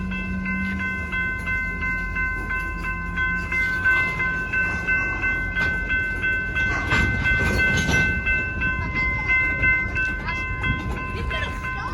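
A train rolls through a road crossing in Tulsa, Oklahoma, the crossing bell ringing steadily over the rumble and rattle of the cars, loud and near, with people talking faintly at times.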